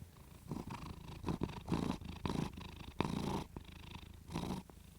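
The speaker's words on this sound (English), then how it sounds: "both my cats are wanting attention" Two house cats wanting attention purr close to the microphone: a soft, rhythmic, breathy rumble that swells and fades with each breath, steady throughout, with no talking.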